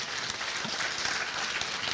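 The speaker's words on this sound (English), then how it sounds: "a big round of applause for our two speakers" An audience at a talk with two speakers gives sustained, dense applause that holds at an even level throughout, with no speech over it.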